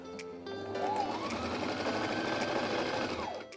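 A sewing machine stitches fabric, a garment sleeve and shoulder seam, running in one steady continuous burst for about three seconds, close and fairly loud with no talking over it.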